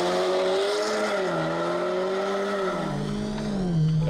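BMW E30 325ix race car launching hard, engine note rising in pitch with a brief tire squeal, loud and close, with no talk.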